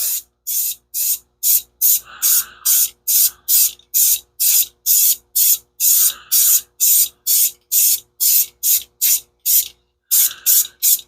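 A spray paint can coating a rifle, giving about twenty short hissing bursts in a regular rhythm, each around half a second long with brief pauses between, loud and close.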